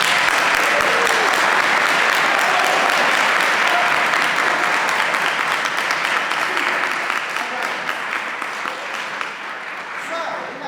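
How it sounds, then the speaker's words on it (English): A large crowd applauds loudly and continuously, with a few voices mixed in, the clapping gradually tapering toward the end. "Let's give her a round of applause"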